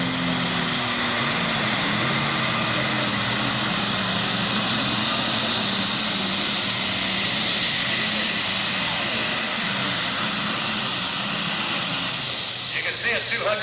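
A Superstock diesel tractor at a tractor pull roars loud and close with a sustained, high-pitched turbo whine that rises and holds before dropping off near the end, while an announcer talks over it.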